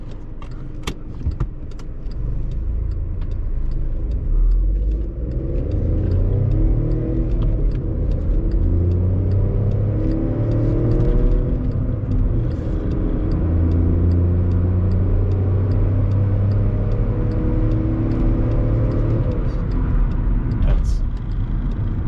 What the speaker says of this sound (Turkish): Sıfır yüz denemesi gelebilir.